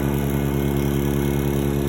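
A freeze dryer's vacuum pump runs loud and close, a steady droning hum with a constant mechanical buzz and no change in pitch.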